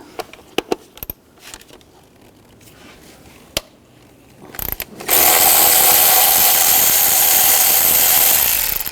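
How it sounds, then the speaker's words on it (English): A bolt comes out with a 10mm socket during ignition coil replacement on a 2010-16 Buick Lacrosse: scattered metallic clicks and clanks, then a loud sustained whirring run of a power tool. "Remove this bolt. Use a 10mm socket."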